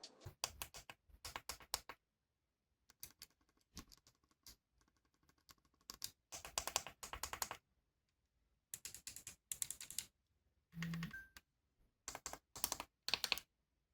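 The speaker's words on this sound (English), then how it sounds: "all of the other buttons feel clicky without a rubber membrane, and it gets pretty loud and popping" Loud, popping button clicks from the smaller buttons of an RG DS handheld, which have no rubber membrane. They come in quick clustered bursts separated by short silences, close up, with no voices.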